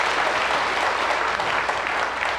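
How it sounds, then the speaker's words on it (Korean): A church congregation at a Holy Week Wednesday evening prayer service applauding students, a dense, loud, continuous clapping of many hands filling the whole moment. "자, 우리 학생들한테 한번 박수로 좀 격려 좀 부탁드립니다."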